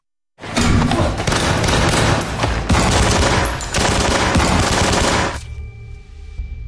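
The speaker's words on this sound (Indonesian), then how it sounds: "Aksi baku tembak pun kembali dilanjutkan sampai masuk ke dalam gedung dan diselingi dengan beberapa adu pukul." Dense automatic gunfire from an action-film shootout erupts abruptly, with rapid overlapping bursts and booming shots sustained for about five seconds before cutting off to a quieter ringing tail.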